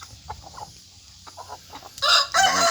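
A young Burmese game cockerel gives one loud, close crow near the end, after a stretch of softer, scattered clucks and faint farmyard noise.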